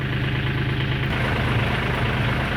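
Low, steady rumble of a tractor engine idling nearby on a farm where cow manure is piled, continuous and fairly loud with a regular throbbing pulse.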